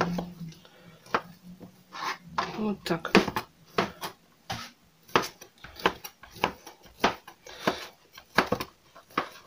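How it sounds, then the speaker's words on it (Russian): A knife cuts ham into small cubes on a board, making repeated close chopping taps at an irregular rhythm, with a person speaking briefly over the cutting. "Пожалуй, я нарежу вот таким кубиком небольшим."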